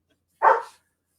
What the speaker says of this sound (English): oh, the dog is barking.